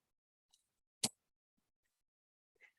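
Scissors give one crisp, close snip through a plastic straw while pony beads are strung, with a couple of faint small clicks around it in otherwise quiet surroundings.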